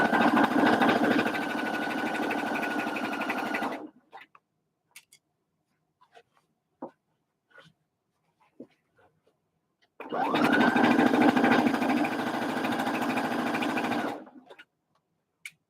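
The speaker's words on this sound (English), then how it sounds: "we're going to go ahead and just sew really close to the edge" A sewing machine stitches close to the edge of a bucket hat in two steady runs of about four seconds each, loud and continuous, separated by a pause of light clicks and handling taps.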